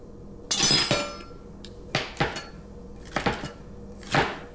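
Knife cutting celery into thin ribbons on a board, a few crisp, separate crunching chops followed by quicker clustered cuts, close and clear with no talking.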